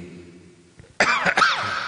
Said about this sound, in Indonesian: Paling batuk-batuk dikit.